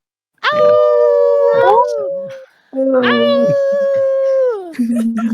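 People imitate a shared wolf howl, two long sustained rising-and-falling vocal howls in a row, loud and close, with a brief spoken word at the end.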